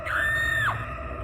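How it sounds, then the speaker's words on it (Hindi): A woman's scream rings out from bushes in a Hindi horror cartoon, one sustained high wail that rises, holds and then drops away, loud and close, with no talking over it. "तभी झाड़ियों में से एक औरत की चीखने की आवाज आई"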